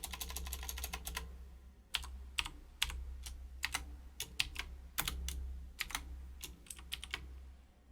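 Computer keyboard typing heard close and clear, in bursts of rapid clicky keystrokes separated by short pauses, with no talking.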